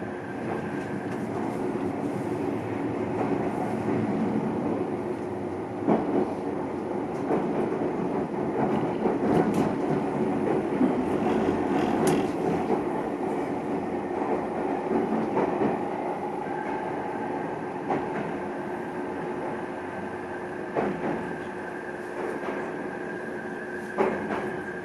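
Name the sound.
train arriving at terminal station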